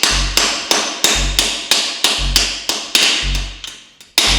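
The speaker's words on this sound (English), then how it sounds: "I started off gently tapping it since I didn't want to damage it." A hammer taps the swing arm pivot bolt of a wrecked KTM Super Duke motorcycle, giving about eleven sharp, close metallic strikes in a steady rhythm, each ringing briefly before the next.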